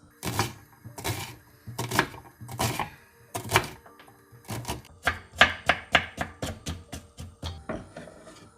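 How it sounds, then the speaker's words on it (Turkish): A knife chops red and yellow onions on a cutting board with loud, distinct thuds, first slow and evenly spaced, then speeding into a quicker run of sharp chops, close up with no talk. "Soğanları istediğiniz şekilde kesebilirsiniz."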